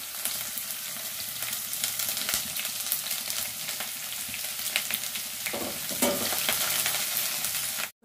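Chopped onions and green chillies fry in a pan with a continuous close, crackling sizzle, broken by a few scraping stirs near the end before it cuts off abruptly; no voices.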